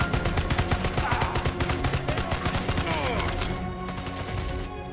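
Automatic gunfire in the video game Sniper Elite 5: rapid, evenly spaced bursts of shots, loud and continuous, fading slightly toward the end as other game sounds continue underneath.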